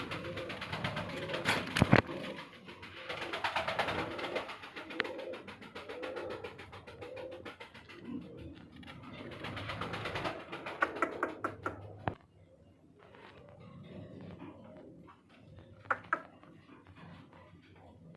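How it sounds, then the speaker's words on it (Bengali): Pigeons, including a red checker pair, coo softly and repeatedly close by at a pigeon farm, with occasional taps and rustles, the cooing fading to quieter stretches near the end. "এখানে আরো এক জোড়া কবুতর আছে"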